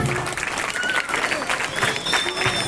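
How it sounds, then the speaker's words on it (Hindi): Loud, sustained applause from a crowd at a high school Independence Day celebration in Dhule, India, dense clapping filling the whole stretch with steady intensity. "जोरदार तालियों के साथ"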